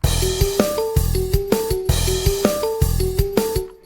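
A steady programmed drum beat with punchy kicks and snare hits in an odd-meter groove shifting from 5/4 to 7/4, layered with short melodic synth notes.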